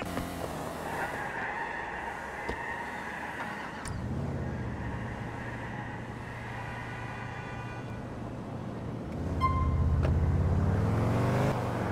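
A car in Grand Theft Auto IV drives with a steady engine drone, then its tires squeal in a long skid, loud and near, with no talking.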